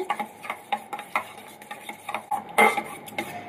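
Egg mixture for a street-style bread cheese omelet is beaten briskly in a bowl, making rapid, close clinks and taps of utensil against the dish in an uneven rhythm, with no voice.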